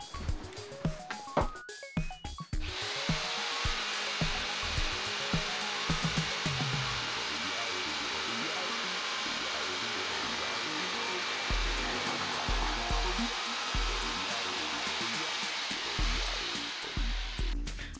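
A TECCPO jigsaw starts up after a few sharp clicks and then runs steadily for a long stretch with a loud, buzzing whine, its pitch wavering slightly as the load changes, with no voices.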